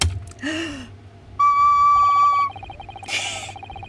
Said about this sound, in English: That's my recorder.